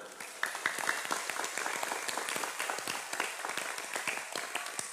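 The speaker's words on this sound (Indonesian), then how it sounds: "Tepuk tangan untuk pesantren." A live crowd at an Islamic lecture applauds steadily, many hands clapping in a dense, continuous patter for the whole stretch, fairly loud and close.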